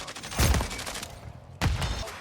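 Two bursts of rapid gunfire in a Call of Duty-style shooter game, each a short rattling volley, separated by a moment of quieter background, no talk over them.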